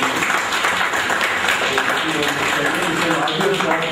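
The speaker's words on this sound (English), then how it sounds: "let us give a big clap for" Applause from an audience at an academic lecture on agricultural prices in India, a continuous wash of clapping with voices murmuring underneath.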